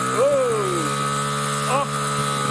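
A toddler's small motorbike gives a thin steady electric whine under close adult talk and cheering, with a brief higher rev toward the end.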